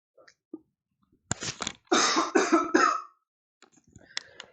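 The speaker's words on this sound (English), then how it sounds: "I just didn't know how loud a cough would be if I cough right into the microphone" A single person coughs loudly right into a close microphone, several harsh bursts in a row, at the end of a chess lesson.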